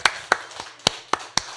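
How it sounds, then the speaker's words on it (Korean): A church congregation at a Korean Sunday service gives slow, spaced claps, about six sharp hits in a steady rhythm, fairly close and without talk. "하나님께 영광의 박수 한번 칩시다."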